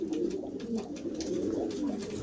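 Pigeons coo softly and continuously in a coop, low throaty warbling calls overlapping one another, close by.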